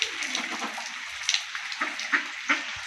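Rain patters onto a pond where ducks swim, a steady soft wash of drops with a few brief splashes and paddling sounds close by, no talking.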